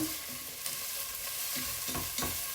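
Garlic sizzles and crackles steadily in a hot pan, with occasional stirring scrapes and clinks close by.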